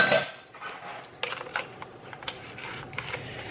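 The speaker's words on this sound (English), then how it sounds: "So we're gonna mix this all up." A spoon stirring keto biscuit batter in a bowl, a run of light clinks and soft scraping taps in an irregular rhythm, close and fairly quiet.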